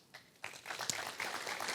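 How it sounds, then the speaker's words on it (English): Conference audience clapping as athletes, including a world champion and an Olympic swimmer, come onto the stage at a learn-to-swim event, a brief burst of applause swelling quickly and holding steady. "So if you could give a nice round of applause, please, as they join us on the stage"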